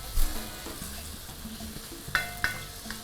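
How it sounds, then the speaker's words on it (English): Onions browning over a high flame in a pan for egg biryani, giving a steady close sizzle. Stirring scrapes come and go, and a couple of sharper clinks land near the end. "I need to brown this onions now. This is going to take some time, about 6 to 8 minutes on high flame."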